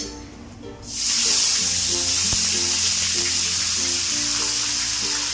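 Whole spices—bay leaf, a chilli, cinnamon, cardamom, cloves and a large black cardamom—drop into hot oil and burst into a loud, continuous sizzle and hiss after a quiet start, holding steady up close.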